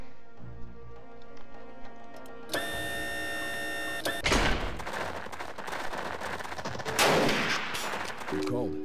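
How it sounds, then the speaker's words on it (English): Gunfire rattles at a tank in the video game Jagged Alliance 2, with single shots giving way to dense bursts of automatic fire and heavy blasts, alongside looping game sounds and mechanical clatter. "we got this idiot shooting at the tank again"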